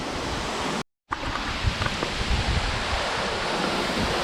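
Steady broadband rush of falling water at Jok Kradin waterfall, Thong Pha Phum National Park, Kanchanaburi, Thailand, continuous and fairly loud, with a brief total dropout near the start.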